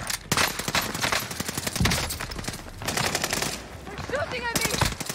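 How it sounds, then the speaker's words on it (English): Automatic gunfire from the Call of Duty Warzone video game on Rebirth Island rattles in rapid, dense bursts almost throughout, loud and close, under excited player voice chat. "They're shooting at me."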